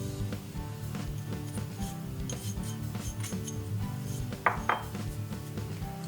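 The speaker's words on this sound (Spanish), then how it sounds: "Ponemos en un cazo la nata" Cream and sugar go into a saucepan for a vegan turrón panna cotta, with light clinks of a spoon and pan near and two sharper knocks toward the end, over a steady background hum.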